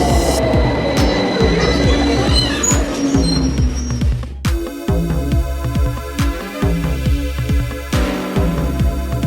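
A subway train rumbles along with rhythmic wheel clatter over rail joints, high metallic squeals and a shift in tone midway as it moves, loud and close throughout.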